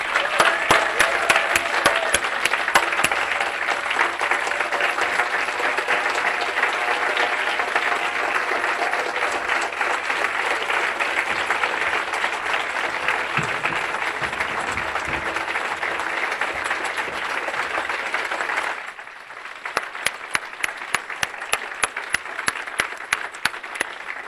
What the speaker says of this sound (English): please give a big round of applause for the Dream Team